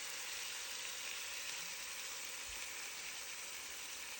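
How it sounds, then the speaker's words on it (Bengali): Marinated beef hits a pan of crisp fried onions for Bihari boti kabab, giving a dense, steady sizzle and hiss that stays constant and close throughout, with no voices. "বেরেস্তার মধ্যে এখন ম্যারিনেটেড মাংসগুলোকে দিয়ে দিচ্ছি"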